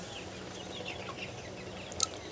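Desi hens on a farm cluck softly under steady background noise, with a brief sharper squawk near the end.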